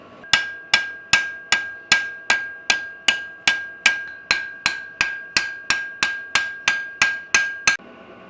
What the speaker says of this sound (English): I've just been going down through with some lighter blows at a lower heat just to smooth everything over